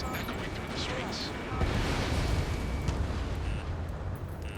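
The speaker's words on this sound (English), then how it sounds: "The city under martial law, gunfire and the roar of jets echoing through the streets" Gunfire and jet engine roar from the combat flight game Ace Combat 7, a dense continuous rumble with booming bursts that grows heavier partway through, set in a city under martial law.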